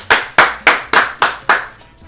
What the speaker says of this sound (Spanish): Erika Tinoco, un aplauso.